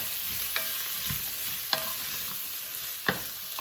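Vegetables frying in pig fat for tortellini soup on medium-high heat, a steady close sizzle with a few sharp scrapes and clinks of a spoon stirring through the pan, no talking.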